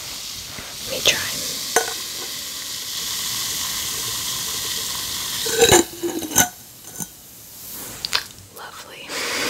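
A bath bomb fizzes in water, giving a steady close hiss and crackle with a few splashes and knocks, while a person whispers softly over it.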